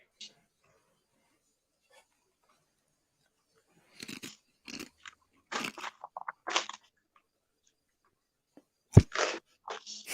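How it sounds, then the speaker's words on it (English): Someone eats a chip, giving several sharp, close crunches in short uneven bursts separated by silent pauses, with one louder crunch near the end. "You can hear me crunching my chip."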